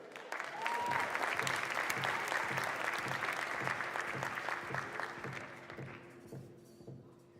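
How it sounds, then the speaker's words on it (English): Sustained audience applause at a mayoral inauguration in Baltimore, a large crowd clapping steadily and loudly for several seconds before thinning out toward the end, with a faint voice briefly audible. "That deserves a round of applause."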